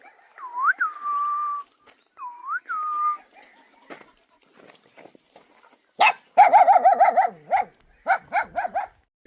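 A dog barks in quick bursts of repeated yaps during a night safari drive in Jim Corbett National Park, preceded by two rising whistle-like calls and some quiet knocks.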